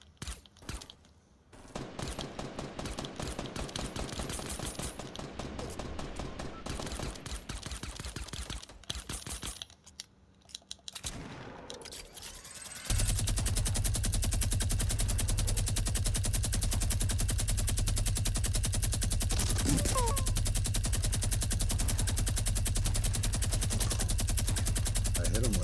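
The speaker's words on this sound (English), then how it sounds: "Two shots, one with a pump and another one right there." Pump shotgun shots in a battle royale video game squad match, heard among dense rapid game gunfire and a loud steady roar, with no talk.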